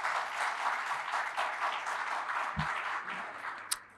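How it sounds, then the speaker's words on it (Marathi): An audience at a memorial lecture event claps steadily in a continuous wash of applause for the whole stretch, with one sharp clap near the end and no speech over it. "एकदा जोरदार टाळ्या सरांसाठी झाल्या पाहिजे"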